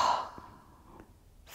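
A single audible exhale during a slow yoga flow, a soft breathy release that fades over about a second, close and alone without talking.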